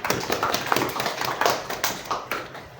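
An audience claps in an uneven series of sharp, separate hand claps, a handful of people nearby producing distinct slaps spaced about a third of a second apart, moderately loud.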